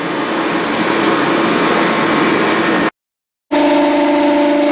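A blower roars steadily, blasting debris off a Husqvarna Z254 zero-turn mower, then cuts out for a moment before a droning engine resumes, loud and close.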